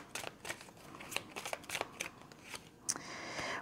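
Tarot cards shuffled by hand in a quiet room, a soft run of riffling flicks and taps over about three seconds, close and faint with no talk.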